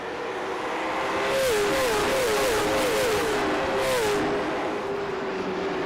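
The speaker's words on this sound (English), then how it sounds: "They race neck and neck down the backstretch into turn 3" Stock cars race on a game version of the Wilkesboro track, engines droning loudly and continuously as they run side by side, pitch rising and falling in quick wavering sweeps.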